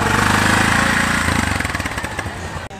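A small three-wheeled tuk tuk engine revs steadily at close range, then its pulsing note shifts and thins as the vehicle moves off from a standstill, with no voices over it.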